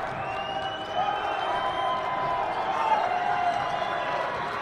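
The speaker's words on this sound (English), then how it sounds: "Crowd coming to life here at Alterowitz Gym" Crowd noise swells in Alterowitz Gym during a college men's basketball game between MSU Billings and Saint Martin's, a steady roar of cheering and clapping that holds at a fairly even level throughout.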